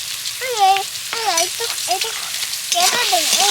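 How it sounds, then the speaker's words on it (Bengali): Chopped vegetables including carrots fry in a pan with a steady, close sizzle throughout, while someone talks over it. "এবার সবকিছু আমি ভালো করে একটু ভেজে নেব"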